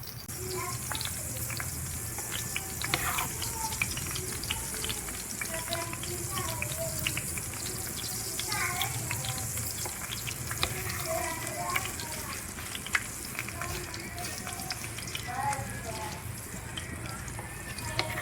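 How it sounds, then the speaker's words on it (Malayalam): Urad dal sweets frying in plenty of oil in a pan, a continuous bubbling sizzle with small pops and crackles, and a voice faintly underneath. "നന്നായിട്ട് ഫ്രൈ ചെയ്തെടുക്കണം അല്ലേ"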